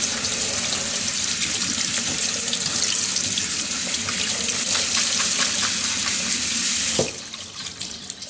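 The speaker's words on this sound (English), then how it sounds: "And rinse it off." Water runs steadily from a kitchen tap into a sink as red cabbage is rinsed, a continuous close hiss that stops abruptly near the end, leaving a quieter tail.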